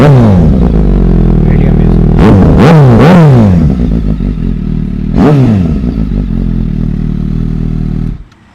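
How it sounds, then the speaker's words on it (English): A Suzuki GSX-S 750 limited edition fitted with an SC Project exhaust, revved up close: a steady loud idle broken by three sharp throttle blips and a later single rev, then cut off abruptly. "now let's listen the rev of this bike"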